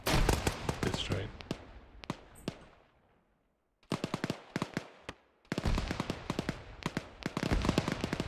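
Rapid bursts of gunfire during a military field training exercise, loud and close, with volleys of sharp cracks, a quiet gap near the middle, then renewed dense automatic firing, with voices faintly under it.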